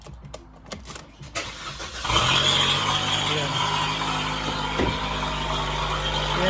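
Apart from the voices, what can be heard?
truck engine starting after parts were fitted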